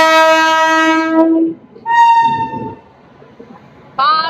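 An Indian Railways train, the Bagh Express running from Howrah to Kathgodam with new LHB coaches, sounds loud horn blasts: a long near blare, a second shorter tone, then another burst, with rumbling between.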